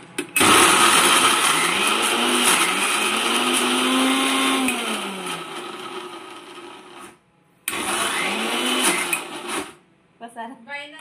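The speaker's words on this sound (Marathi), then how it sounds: "आणि आता हे आपण मिक्सर मधून काढून घ्यायचं." A mixer grinder whirs loudly, grinding chicken tava kebab mixture with egg, running for about seven seconds, stopping, then pulsing again briefly before halting, with a voice heard at the end.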